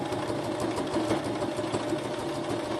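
A sewing machine stitching a zigzag seam on a fabric belly band gives a steady, continuous mechanical whir with a low running drone and no talk.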